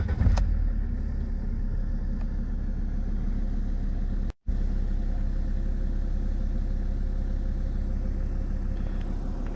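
A rough project car's engine idles steadily with a low, even drone, a brief start-up burst at the beginning and a momentary cut midway, no voices.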